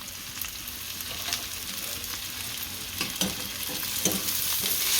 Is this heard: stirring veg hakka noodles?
yes